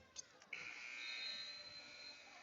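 Game-ending buzzer at a high school basketball game between Arlington Eagles and Jackson T-Wolves, a sustained electric buzz after two short blips, heard faintly over gym noise.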